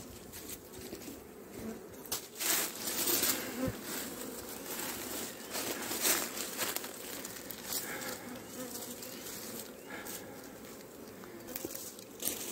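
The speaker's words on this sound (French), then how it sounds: "Donc là, déjà un essaim." A swarm of honeybees buzzes steadily around a beekeeper's hive, a dense continuous drone with a few louder passes of individual bees close by, and no speech over it.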